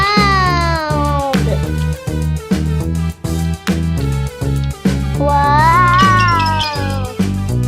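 Cartoon cat meows ring out repeatedly in a cooking and restaurant video game, bright and loud over constant upbeat game music, with short gaps between the calls.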